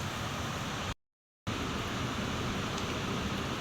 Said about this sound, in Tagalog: Bali po ngayon ay sobrang lakas ng ulan.